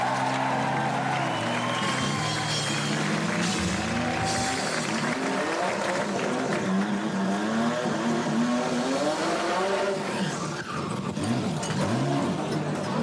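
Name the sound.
V6 Buick drag car with extra turbocharger revving and accelerating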